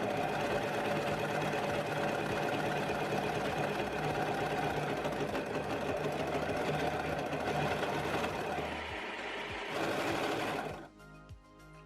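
A sewing machine finishes the curved seam allowance on a pair of pants, running as a continuous close, loud mechanical whir, then slowing and stopping near the end.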